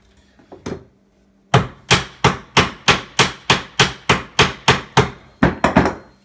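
A washer is hammered onto coyote snare wire with a steady run of about a dozen sharp, loud metallic strikes at an even rhythm, close up, after a few faint knocks and a short pause.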